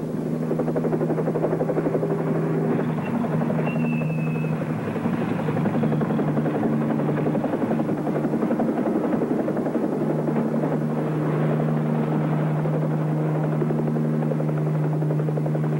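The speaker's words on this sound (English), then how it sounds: "Watch the copter." Helicopter flying overhead near a burning fence, a steady loud rotor drone with a deep constant hum continuing throughout, no talking.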